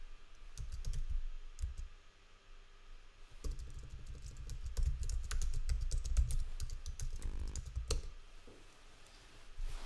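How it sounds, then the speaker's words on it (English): Password being typed on a computer keyboard, steady runs of close, crisp keystrokes with brief pauses between bursts, no speech. "let me type my password first"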